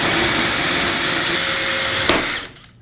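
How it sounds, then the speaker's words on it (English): A power drill spins a bit in reverse against plastic hydroponic NFT channel, a steady loud whirring grind that runs without a break and then winds down and stops near the end. "once you drill your hole in there, we'll go backwards on the drill bit"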